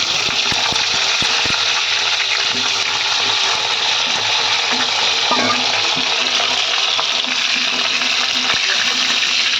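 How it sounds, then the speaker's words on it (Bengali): Pieces of pointed gourd (potol) fry in hot oil with a loud, steady, dense sizzle, and a few sharp clicks sound early on. "তো এখানে তেলটা গরম হয়ে গেছে, তো আমি তেলে পটলগুলো ভেজে নেব।"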